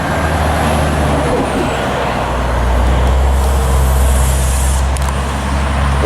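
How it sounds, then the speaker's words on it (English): A bus in roadway traffic with a loud, close rumble of heavy engine noise and a hissing release of air brakes, continuous and steady with no voices. "Air brakes on the bus?"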